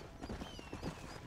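Horse hooves clip-clop in the Red Dead Redemption video game, a quiet, steady run of soft thuds at a walking pace.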